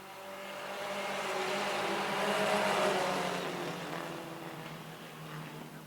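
Race cars roar around a track in a sustained wash of engine noise that swells toward the middle and then eases, with several engine tones layered together at a moderate distance.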